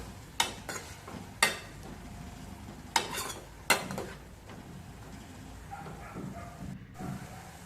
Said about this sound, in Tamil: மஞ்சள் தூள், கொஞ்சமாக மிளகாய் தூள் போட்டு நல்லா மிக்ஸ் பண்ணி விடுங்க.